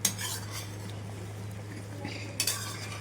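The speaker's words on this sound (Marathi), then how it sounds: "ह्यामध्येच हलवत हलवत यातला सगळा पाक ह्या आवळ्यांमध्ये गेला पाहिजे" A spoon stirs amla gooseberries in sugar syrup in a pan over a medium flame, giving soft scraping and occasional metallic clinks over a steady low hum, with no voices.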